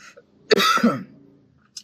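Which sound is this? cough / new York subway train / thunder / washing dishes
cough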